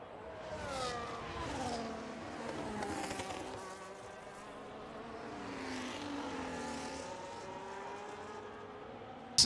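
F1 25 race cars lapping the São Paulo Grand Prix circuit: high, whining engine tones rise and fall as cars pass, moderately loud and continuous, with no voices.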